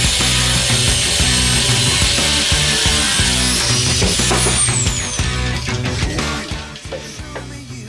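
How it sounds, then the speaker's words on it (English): A small, inexpensive angle grinder cuts through metal held in a vise for a homemade Harley-Davidson motorcycle shock part, with a loud, steady grinding whine and rhythmic rough texture that eases slightly toward the end, with no talking. "proceed to cutting with a little grinder that I bought for just about 35 euros the other day"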